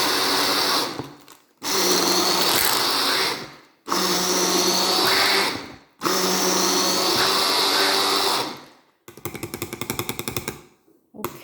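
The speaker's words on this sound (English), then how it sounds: "you just keep blitzing until you can no longer see your fruit" A close handheld blender blends berries for a smoothie in four loud bursts with short breaks, then a final rattling, pulsing burst as the blades churn.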